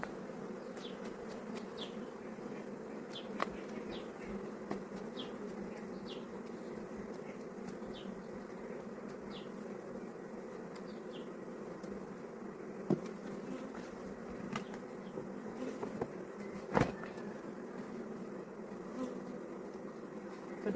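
A honey bee colony that produces 30 kg of honey, opened for a hive inspection, giving a dense, steady buzzing hum close to the microphone with occasional faint clicks and knocks from handling frames.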